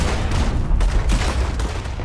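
Rapid loud gunfire bursts in the video game Red Dead Redemption 2, dense overlapping shots and booms filling the whole moment without pause.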